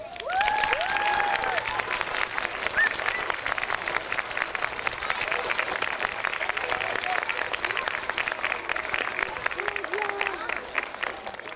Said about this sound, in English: feel free to clap loud and proud as we honor them all